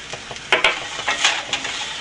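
Frying food being stirred after salt and mango powder go in, a close, fairly loud sizzle with quick spoon scrapes and taps against the pan over about two seconds.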